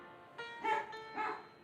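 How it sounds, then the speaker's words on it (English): A dog barks a few times in quick, high-pitched yips and whimpery bow-wows, fairly faint and a little distant indoors, with no talking over it. "Y'all hear my dog."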